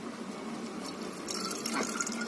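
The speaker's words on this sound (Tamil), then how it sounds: "இப்போ என்னென்னா இந்த பாட்டிலில் வந்து நமக்கு தண்ணி ஊற்றிக்கணும்" Water poured into a plastic soda bottle before mixing goat or cattle medicine, a steady liquid trickle that brightens and fills out toward the end, close and alone.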